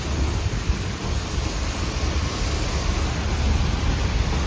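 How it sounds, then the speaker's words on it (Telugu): Heavy rain pours in a dense, steady roar that fills the whole clip, loud and continuous with no voices. "ఎట్లా పడుతుందో వాన పుట్టు పొట్టు కొడుతుంది వాన"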